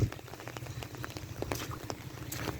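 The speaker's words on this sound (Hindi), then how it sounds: "और बारिश लगातार जारी है जी।" Heavy storm rain falls on a flooded road in a dense, steady patter of close drops and splashes, with no voices.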